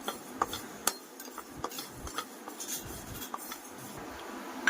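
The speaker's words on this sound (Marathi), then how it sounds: "मेथी पण आपण भाजून घेऊया." Fenugreek seeds dry-roasting in a pan for masala: soft, faint scraping and light ticking of seeds against metal, with scattered small clicks of a stirring spoon in an otherwise quiet room.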